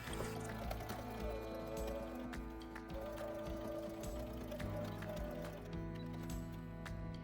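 A sewing machine stitches a shirt hem along a pressed edge, its motor humming steadily and needle clattering rapidly without pause, loud and close throughout.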